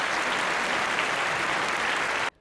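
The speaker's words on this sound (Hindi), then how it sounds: "सो जोरदार तालियों के साथ स्वागत कीजिए संचिता" Loud, dense applause from an award show audience at a Bhojpuri film awards ceremony, sustained evenly before cutting off abruptly near the end.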